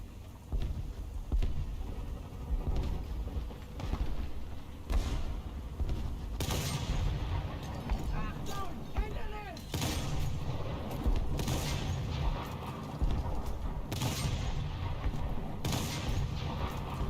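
Gunfire and explosions in the video game Stationeers: dense bursts of shots and booming blasts rolling on steadily, loud and close throughout.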